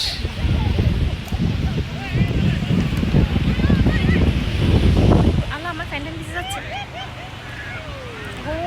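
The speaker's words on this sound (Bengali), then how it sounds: "এখানে বাতাসটা আলাদা একটা আরাম না" Sea wind and surf at a beach in Oman, a steady loud wash of wind buffeting the microphone with waves behind it, while birds chirp faintly and distant voices babble in the background.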